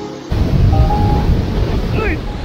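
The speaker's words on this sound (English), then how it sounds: "There, you're officially behind the waterfall." Waterfall pouring in Panamanian jungle, heard from the ledge behind the falling curtain: a loud, close, constant roar, with a voice briefly speaking over it.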